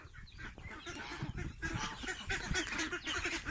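Six-week-old domestic laying ducks quack and call in a busy flock nearby, overlapping honking voices at a soft, steady level.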